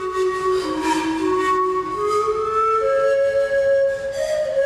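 A ceramic Nasca antara panpipe sounds a slow breathy melody of sustained, airy tones that step between pitches, heard alone and fairly loud against a soft hiss.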